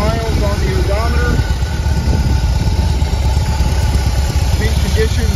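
Engine of a 2021 BMW R 18 Roland Sands motorcycle running at a steady idle, a close low throbbing rumble throughout, with someone speaking over it.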